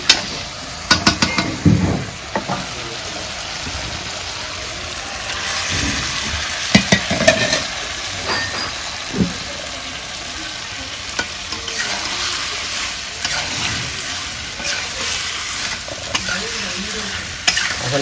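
Cauliflower is stirred into fried spices in a pan for a Bengali-style rohu fish curry, giving a steady close sizzle with scraping spoon strokes and occasional clinks against the pot.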